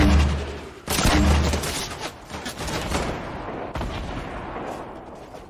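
A grenade launcher fires in a video game, producing heavy booming blasts and a sustained rumbling explosive wash that stays loud throughout, with no voices.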